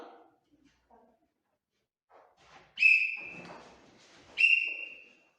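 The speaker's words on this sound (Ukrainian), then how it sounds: "Коли лунає другий свісток, ви перестає тягнути." A referee whistle is blown twice during a PE class, two sharp shrill blasts about a second and a half apart, each followed by a short fade, with brief soft sounds in between.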